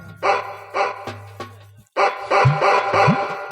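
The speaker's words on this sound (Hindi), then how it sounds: "अरे यार, वो कुत्ता बंधा हुआ है" Tethered dog barking in short, sharp bursts, two barks, a pause, then a rapid run of several more, loud and close with a small whine between.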